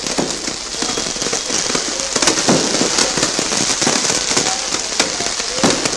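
Diwali firecrackers pop and crackle in dense, continuous bursts, sharp reports scattered over a steady background hiss, moderately distant.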